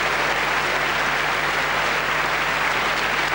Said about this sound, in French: C'est le début d'une bouleversante et longue ovation